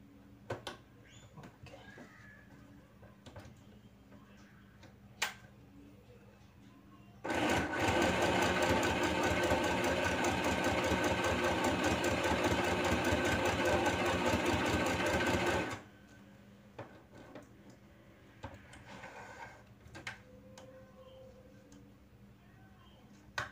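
A YOKO YK1803 portable mini sewing machine runs a small, tight straight stitch in one continuous loud burst of about eight seconds, with quiet stretches of faint handling before and after.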